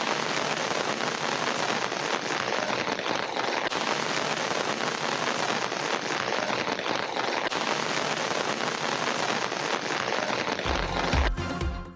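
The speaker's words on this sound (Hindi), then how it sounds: "इस्लामाबाद के मुख्तलिफ सेक्टर्स में गरज चमक के साथ मूसलाधार बारिश।" Torrential rain with thunder and lightning across sectors of Islamabad, a dense, loud, steady hiss of heavy downpour drumming on surfaces throughout, ending with a brief low rumble and cut-off.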